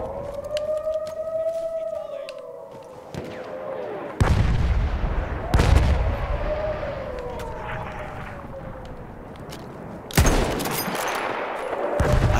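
Loud bursts of gunfire and heavy blasts from the video game Battlefield 1 ring out at intervals over a wailing, siren-like tone, with a synthetic, game-like quality.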